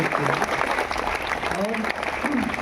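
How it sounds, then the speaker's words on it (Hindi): Loud audience applause welcoming a JPSC-qualified officer as a guest at a school, dense clapping throughout with brief voices and a short tonal sound rising over it. "तो हम जोरदार तालियों से विद्यालय में उनका स्वागत करते हैं।"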